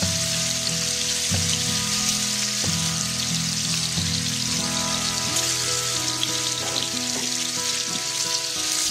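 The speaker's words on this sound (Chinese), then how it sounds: "平底锅油烧热，爆豆腐煎一下" Tofu fries in hot oil in a flat pan with a dense, constant sizzle and crackle, close and even, joined by a few light knocks of a utensil and no talk.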